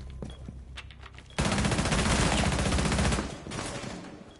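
Rapid automatic gunfire from a tactical shooter video game, a sustained loud burst of close shots in the middle stretch, flanked by quieter scattered game noise before and after.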